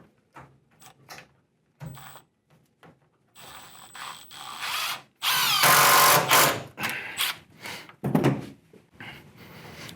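A power drill drives screws into a panoramic door track in short bursts. The whine rises to loud sustained runs with clicking and ratcheting between pauses.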